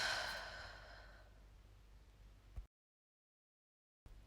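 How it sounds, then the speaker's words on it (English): A single long, full exhale at the end of a yoga breathing sequence, breathy and close, tapering off gradually before a short silence. "Full complete exhale."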